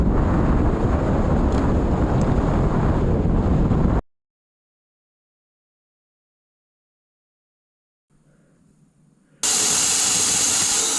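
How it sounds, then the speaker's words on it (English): Strong wind gusting on Mt Audubon at night, buffeting the microphone with a loud roar for several seconds, cutting to silence, then returning abruptly as a harsh blast. "That wind's gusting pretty good."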